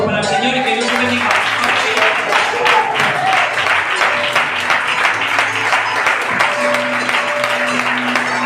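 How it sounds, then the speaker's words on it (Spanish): Church congregation applauding during a lively worship service, steady clapping layered under sustained music and voices that continue throughout. "Un aplauso para el Señor"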